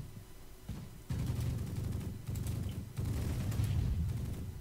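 Enemy gunfire rattles in a WWII-era combat video game near Caen, rapid bursts and a steady low rumble of shots and explosions at moderate volume, with brief lulls between volleys.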